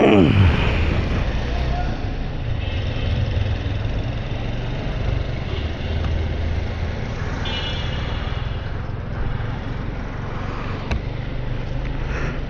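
A motorcycle engine idles and rumbles steadily in a traffic jam on a cold day, a constant close low drone with surrounding traffic noise, while someone talks over it.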